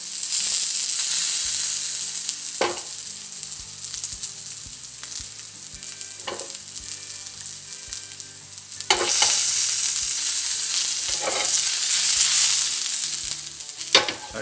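Garlic and ham-stuffed mushrooms sizzle loudly on a griddle, a constant frying hiss broken by occasional stirring and clatter.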